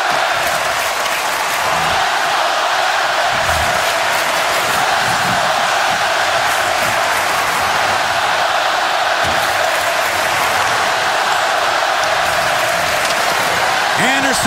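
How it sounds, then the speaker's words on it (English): Hockey playoff arena crowd between the Red Wings and Ducks in Detroit, a dense, continuous roar of cheering and noise filling the space at steady loudness for the whole stretch, with an announcer talking over it. "This crowd's been raucous tonight."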